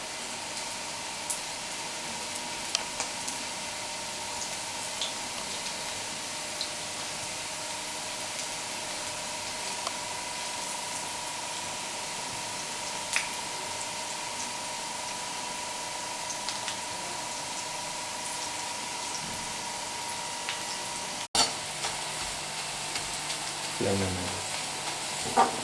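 Cabbage pakoda frying in hot oil, heard as a steady, even crackling sizzle that runs throughout, with a few faint clicks and one sharp tap near the end.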